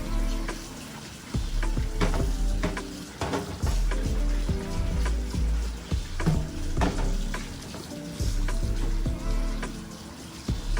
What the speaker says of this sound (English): We're gonna rinse them off.